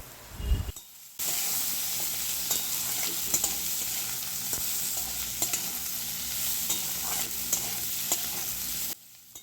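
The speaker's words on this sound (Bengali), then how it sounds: "এবার ভালো করে মশলাটা কষিয়ে নেওয়া হচ্ছে" A spice paste of ginger-chili paste and salt is stir-fried in a pan for an egg dish, giving a steady close sizzle broken by repeated scraping strokes of the spoon. A short quieter stretch comes before the frying begins.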